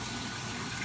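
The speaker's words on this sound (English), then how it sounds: "rinse the pasta. I say do it." Steady running water pours over cooked pasta being rinsed in cold water in a kitchen, a continuous close gush with no talk during the brief moment.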